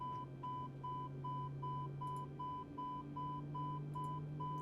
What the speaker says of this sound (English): Why are you beeping? You're really irritating.